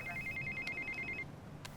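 A telephone rings in a film scene, a thin electronic warbling ring at moderate volume over low background rumble, lasting about a second before cutting off.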